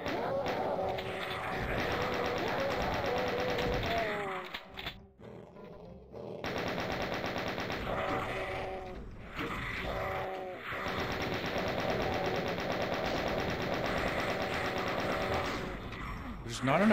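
Chain gun firing in the Doom video game, rapid rattling bursts of gunfire, loud and close, broken by a short pause midway before the shooting resumes.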